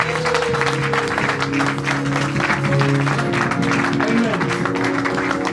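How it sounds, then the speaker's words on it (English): A church convention congregation claps together for Jesus Christ, a steady, loud wash of applause running the whole time over sustained keyboard or organ music. "You clap for Jesus Christ."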